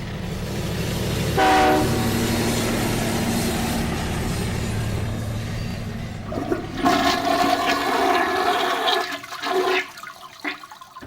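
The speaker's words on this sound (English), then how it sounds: "It is easier for a freight train to be flushed down a toilet." A toilet flush gushes and gurgles loudly, then gives way to rumbling, clattering train-like noise with a sharp horn-like tone near the end.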